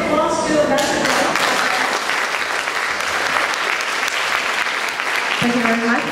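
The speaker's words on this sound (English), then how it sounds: "now a big applause to Ambassador" An audience applauds an ambassador at a public lecture on bilateral relations, steady loud clapping filling the room from start to finish, with brief voices at the beginning and end.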